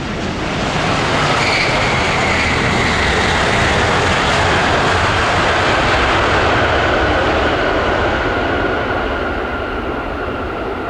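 Loud, continuous roar of a Vietnam Airlines Boeing 787 landing on runway 07 left at Tan Son Nhat airport, heard from nearby with a broad jet rush and a faint falling whine that stays strong for about eleven seconds.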